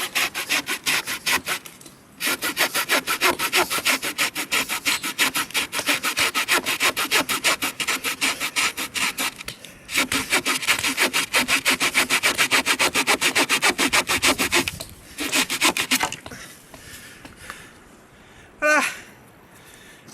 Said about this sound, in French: La scie marche toujours aussi bien